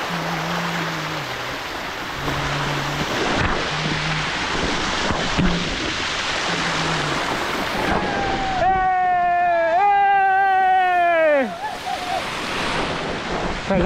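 Rushing water of a waterfall in dense forest, a steady broadband roar throughout, with strong whistling tones and a voice rising over it near the end.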